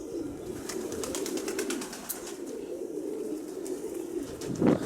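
A pigeon battling strong wind, with soft bird calls and coos rising over a constant roar of gusting wind.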